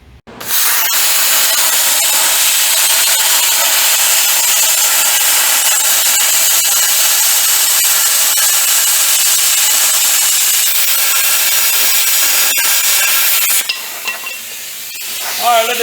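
Metal cutting through trailer sheet steel for a tail light hole, a loud continuous abrasive hiss and rasp that holds steady for about thirteen seconds, then winds down and stops near the end.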